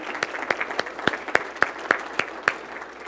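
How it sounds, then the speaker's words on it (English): An audience at a Pendomonium 2017 talk claps in a steady, sparse rhythm of distinct hand claps, moderately close, with no voices over it. "let's give you a round of applause"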